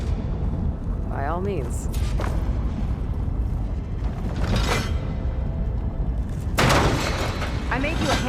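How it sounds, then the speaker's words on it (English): A ballista fires in Horizon Forbidden West: Burning Shores, with two loud, booming bursts a couple of seconds apart over a steady rumble of game ambience, while a person talks. "Another ballista. Maybe we can use it. I'll shoot this time."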